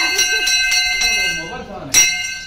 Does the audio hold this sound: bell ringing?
yes